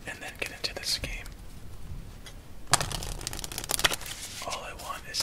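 A deck of playing cards is shuffled up close for a solitaire game, quick riffling bursts with crisp card snaps between softer pauses, alongside a whispering voice.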